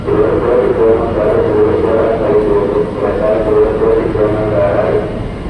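A KRL commuter train rumbles steadily at Tanah Abang station, a continuous low mechanical drone with faint rhythmic rattling and murmuring station background.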